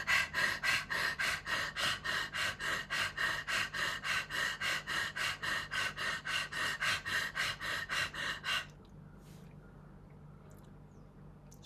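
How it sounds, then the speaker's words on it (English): Rapid panting breaths of the Shwan Pranayam dog-breathing exercise, about three quick forceful huffs per second, close and loud, for around eight seconds before stopping abruptly into near silence. "Shwan means dog. Panting dog pranayam."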